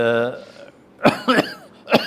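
A short run of harsh coughs, three quick bursts following a brief vocal sound.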